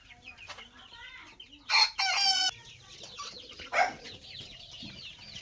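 Local chickens cluck throughout a large chicken house, and two loud, close bursts of crowing and squawking rise above the busy flock.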